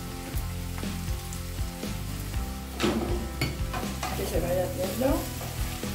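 Garlic sizzles and crackles steadily as it fries in oil for mackerel escabeche, with a spoon stirring at intervals. A voice speaks briefly over the sizzling.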